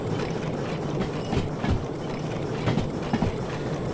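Steam locomotive in the Derail Valley railway sim, chugging steadily at close range with a rumbling, rattling mechanical bed and periodic soft chuffs and clanks, no talk.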